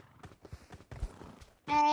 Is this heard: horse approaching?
yes